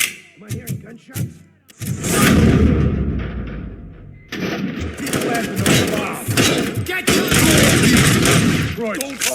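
Rapid automatic gunfire and heavy thuds in the RoboCop: Rogue City video game, dense and loud, firing almost continuously after a short pause, with game character voices shouting over the barrage.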